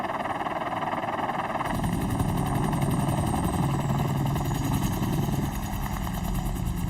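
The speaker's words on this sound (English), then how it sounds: "provides an opportunity to practice helicopter rescues." A mountain rescue helicopter flies close by, its rotor chop and turbine drone loud and steady, swelling slightly partway through, with no voices.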